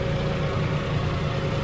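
A tractor engine runs with a steady, dense, low rumble at close range, held on a slope with its brakes on, with no voices.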